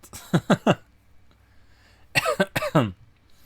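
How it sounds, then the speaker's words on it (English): Two bursts of coughing: a quick run of three coughs, a short pause, then another cluster of four harsher coughs close to the mic. "Back to the coughing."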